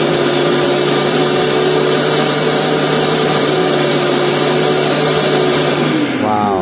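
A cheap CEEOL MISSCEO multifunction food processor robot runs its motor at a set speed, a loud, steady high whine with a constant hum that winds down and shifts pitch near the end.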